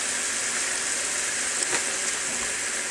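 Steady, even sizzling of seasoned food frying in a pan for shrimp and lobster rice, a constant hiss with no talking, close and moderately loud.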